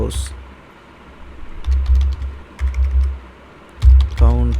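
Short bursts of computer keyboard typing come in quick clicking clusters between pauses, with someone speaking at the start and at the end.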